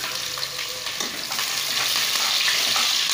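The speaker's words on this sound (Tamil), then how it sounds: "நல்லா அந்த எண்ணெயில் வந்து வெங்காயம் வணங்கட்டும்" Onions fry in hot oil with popped mustard seeds and curry leaves for cauliflower biryani, giving a dense, close sizzle with light stirring scrapes, alone and steady.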